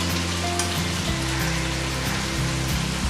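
Tempering spices crackling in hot oil in a kadhai for chicken chilli, a steady close sizzle and patter with a low cooking hum underneath.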